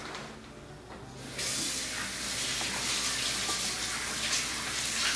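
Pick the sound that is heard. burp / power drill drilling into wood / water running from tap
water running from tap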